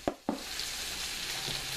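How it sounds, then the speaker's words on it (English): A large pot roast sizzles and fries in a hot pan, with a couple of sharp clatters at the start followed by a steady, close hiss of searing meat. "And while that side's searing"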